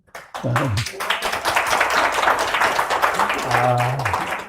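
A lecture audience at a Buddhist culture center gives a burst of clapping that continues steadily for several seconds, with a voice heard briefly near the start and again toward the end.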